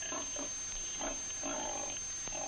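Pigs being groomed and powdered at a 1947 country fair grunt in a few low, rough snorts over a constant hiss and high whine of old film noise.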